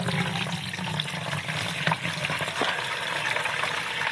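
Maple sap poured from a bucket through a filter outdoors, a steady trickling, splashing pour heard up close throughout.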